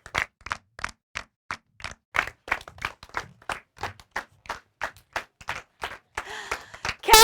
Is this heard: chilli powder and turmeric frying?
no